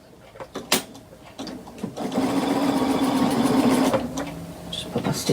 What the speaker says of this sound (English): So I'm on the Bernina and I'm using Aurifil thread